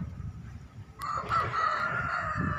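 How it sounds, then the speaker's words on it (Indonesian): Roosters crowing and hens clucking in a chicken coop at the far end of a garden plot, a sharp onset followed by a sustained crow over low background rumble. "Di ujung sana ada kandang ayam sedulur"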